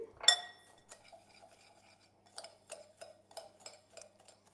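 A spoon is fetched in a home kitchen while preparing almond crusted fish: one bright glassy clink, then a scattering of light metallic cutlery taps and clatters, quiet and close, with no talking.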